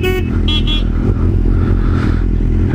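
A Honda motorcycle engine rumbles steadily up close while its horn gives a few short toots near the start.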